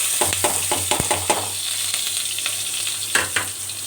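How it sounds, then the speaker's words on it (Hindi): Garlic ginger paste frying in browned onions in a pot for a chicken yakhni pulao, a close steady sizzle punctuated by a rapid series of stirring scrapes and taps, with no voices. "अब मैं इसमें लहसुन अदरक का पेस्ट डाल रही हूँ"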